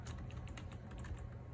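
Steady rapid typing of a root password on a computer keyboard during setup of a Dell PowerEdge R620 server, continuous close key clicks over a low hum.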